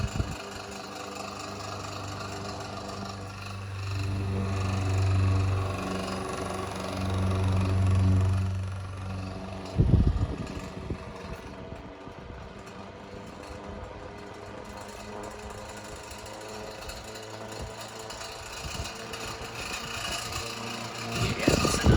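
A vintage 8-inch Montgomery Ward table fan runs with a low motor hum and a rattle that swells twice, then a clunk and quieter whirring with faint background noise.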